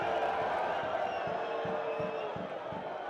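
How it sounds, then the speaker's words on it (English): Crowd noise from spectators at a Cork City versus Wexford league football match in a stadium, a broad, distant roar with cheering and some clapping, steady throughout, with a commentator's voice over it. "There's some applause there now,"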